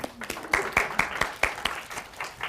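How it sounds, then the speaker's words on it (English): Scattered clapping from a small group at a startup pitch event, individual claps standing out in an uneven rhythm that thins toward the end, close by with no talk. "And applause."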